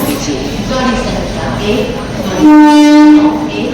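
A train horn blares loudly for about a second near the end, over the rumble of a train and busy Deen Dayal Upadhyaya railway station near Varanasi, with people talking nearby.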